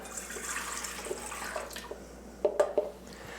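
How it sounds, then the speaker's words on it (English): Warm water pouring into a stand mixer bowl while making Sicilian-style pizza dough, a soft steady splashing stream followed by a few brief drips or clinks near the end. "We're going to put our warm water into the mixing bowl first."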